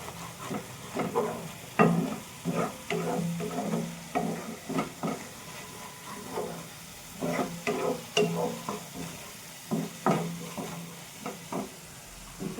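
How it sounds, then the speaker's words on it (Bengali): Turmeric, chili, cumin and coriander powder fried with pointed gourd in a pan, a low sizzle under busy, irregular scraping and stirring strokes that keep coming close and clear over several seconds, without speech. "হলুদ, লঙ্কা গুঁড়ো, জিরে, ধনে গুঁড়ো এর মধ্যে দিয়ে দেবো। ভালো করে কষিয়ে নেব।"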